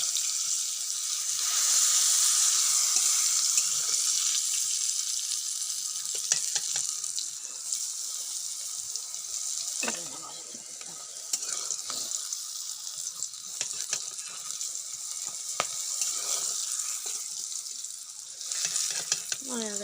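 Bitter gourd sizzles and crackles in hot oil, a steady frying hiss with occasional stirring and scraping sounds throughout.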